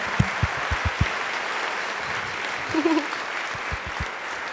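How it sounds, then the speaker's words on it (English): An audience at a school spring band concert claps steadily in a sustained round of applause, with a few louder claps standing out and some voices faintly underneath. "Please give him a round of applause."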